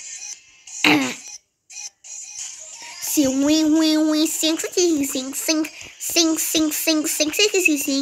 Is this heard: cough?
yes